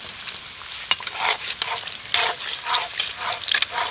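Crisp khaja pastries sizzle in a pan of hot oil while a utensil stirs them now and then, giving close, crackling bursts over a constant frying hiss with no speech.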